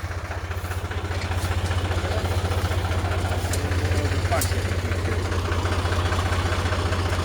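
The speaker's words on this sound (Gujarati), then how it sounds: "બીજું ટ્રેક્ટર આવી ગયું છે" A second tractor idles close by, arriving to help free a sand-laden trolley stuck on a rural track. Its steady low diesel throb runs throughout, with faint voices in the background.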